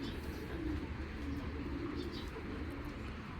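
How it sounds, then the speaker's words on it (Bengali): Soft, low pigeon coos murmur steadily beneath a faint background hum, close by and continuous, with a few higher chirps faintly in the distance. "এক কথা বলতে গেলে অনেক শক্তিশালী কবুতর"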